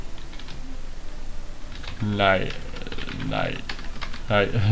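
Rapid typing on a computer keyboard, a steady stream of close, crisp key clicks running throughout, with a voice talking over it at intervals.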